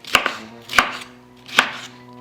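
Ripe, fleshy bell pepper being chopped on a board for homemade ketchup: three crisp, close knife strikes at a steady, unhurried pace, with no voices.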